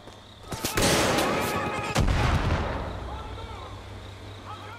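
Gunfire rings out in the video game Far Cry 5, a couple of sharp, booming shots with long echoing tails, followed by quieter ambient game sounds.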